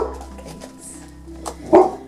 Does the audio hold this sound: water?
no